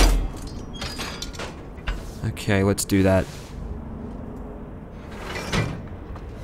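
A sci-fi sliding door opens in Alien: Isolation with a mechanical whoosh and clunk, a brief burst near the start and another later, while someone talks over it.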